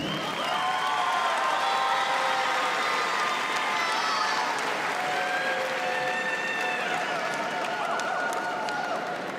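A high school graduation crowd applauds and cheers for the whole stretch, a loud, sustained roar of clapping with whoops and shouts, and rising whistles and cries sliding above it.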